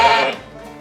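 A sheep bleats loudly and close by in a pen before shearing, one strong wavering call that fades out after about a third of a second.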